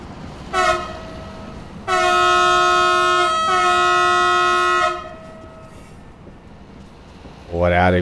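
A train horn on a Romanian railway line gives a short toot, then a long, loud, sustained blast of about three seconds, close by over constant rumbling track and engine noise.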